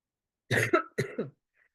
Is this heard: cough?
yes